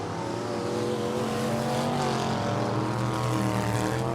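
Factory stock cars lapping Tulsa Speedway during a heat race, a steady dense roar of several engines with layered droning tones, loud and continuous throughout with no talk.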